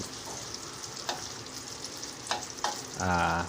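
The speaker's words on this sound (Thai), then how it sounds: "แล้วก็เทไข่ลงไปแล้วนะครับ" Beaten egg sizzles and fries in a hot pan for a cha-om omelette, a steady close crackle broken by a few sharp clicks of stirring, then a louder burst of sizzling at the end.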